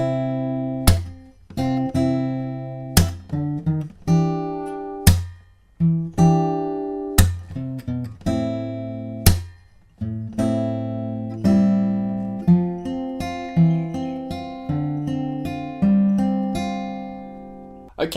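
Guitar riff from a cover of a song, strummed chords with sharp attacks and short gaps in a steady rhythm, loud and close with no talking.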